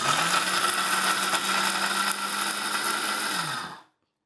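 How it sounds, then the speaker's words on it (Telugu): Kitchen mixer grinder whirring steadily as it grinds masala, a dense motorized drone that runs for several seconds and then cuts off abruptly into silence. "ఇలాగా మిక్సీ పెట్టేద్దాం,"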